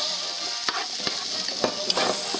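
Celery hits a hot pan for shrimp soup and sizzles, a close, steady hiss with a few quick scraping stirs punctuating it.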